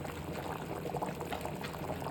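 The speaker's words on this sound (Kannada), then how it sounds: "ಸೊ ಮೊಟ್ಟೆ ಸಾರು ಚೆನ್ನಾಗಿ ಕುದೀತಾ ಇದೆ." Egg curry thickened with a little ragi flour bubbles in a pot, a soft, steady simmer of popping bubbles heard up close and faint.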